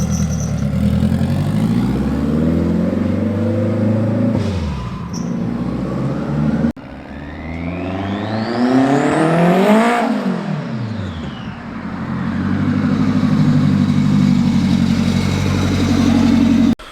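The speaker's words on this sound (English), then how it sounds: "I told my boy Spoon to go for a little ride" A car with a changed exhaust drives off down a residential street on a Saturday, its engine revving loudly and rising then fading as it pulls away, passing close with a sweeping engine note before receding.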